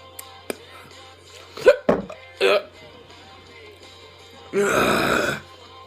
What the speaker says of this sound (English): got the meat burps.